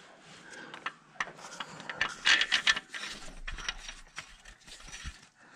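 A ratchet wrench clicks in quick bursts while cranking bolts on a tractor engine during repair work, the close metallic ticking interspersed with tool taps and handling.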